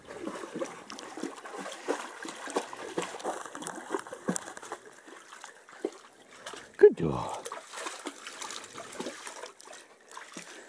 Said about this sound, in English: this little creek runs right along the bottom of it